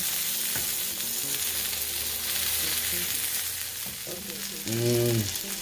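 An Impossible Burger plant-based patty sizzles steadily in a pan while it is flipped, with brief scraping and clatter from the turn and a dense, continuous frying hiss throughout.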